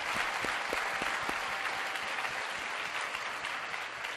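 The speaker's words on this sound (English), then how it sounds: "I just want to give Eric and his beautiful wife Marina a round of applause for an amazing event." A crowd at an event breaks into sustained applause, a thick wash of clapping with a few sharper individual claps near the start.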